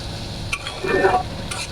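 Dried Bombay duck fish frying in oil while being stirred in a pan, with a steady sizzle beneath scraping and stirring strokes.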